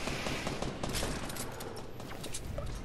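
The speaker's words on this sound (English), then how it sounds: "That sounds like a lot of shooting over there" Dense, continuous gunfire in Fortnite, a rapid overlapping volley of shots that holds steady and fairly loud the whole time.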